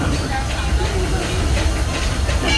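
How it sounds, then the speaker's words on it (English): Disneyland Railroad steam locomotive Ernest S. Marsh No. 4 rolling along at night, a steady broad rumble and hiss of the moving train with faint wheel clatter, continuous and close, with a voice over the ride. "please remain seated until the train comes to a complete stop"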